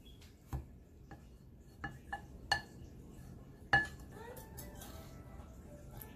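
Fish curry ingredients mixed by hand in a bowl for Nepali-style curry, a handful of light clinks and taps against the bowl spaced irregularly over soft background noise.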